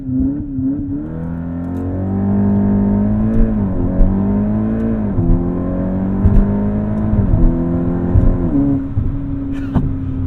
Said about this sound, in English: Wow, that's an aggressive launch control.